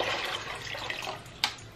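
Bottled water poured into a container at home for a liver cleanse drink, a soft steady splashing stream, fairly faint and close, with a brief bump near the end.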